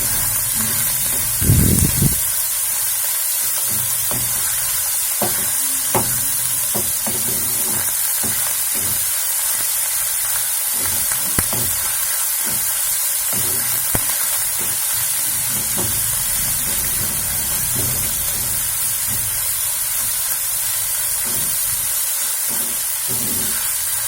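Onions for a homemade tomato pasta sauce frying in a pan, a steady close sizzle and hiss running the whole time with light stirring crackles and a brief louder pop near the start, no talking.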